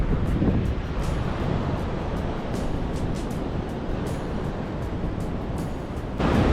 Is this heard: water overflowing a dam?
yes